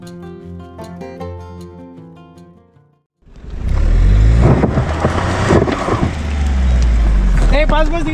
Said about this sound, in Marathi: डोंगराला मधोमध कापून जाणाऱ्या अरुंद रस्त्याने गाडी चालवण्याचं धाडस चांगलंच अंगाशी आलं